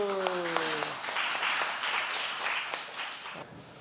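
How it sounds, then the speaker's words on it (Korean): A voice is heard briefly, then a church congregation in Mongolia breaks into steady applause, many hands clapping together at a moderate distance. "박수."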